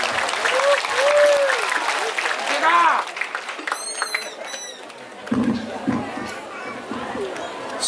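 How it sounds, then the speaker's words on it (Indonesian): Applause from a crowd at an Islamic boarding school gathering for Pak Prabowo, broad and steady throughout with voices, whistles and chanting mixed in, easing slightly midway before swelling again. "Tepuk tangan untuk Pak Prabowo."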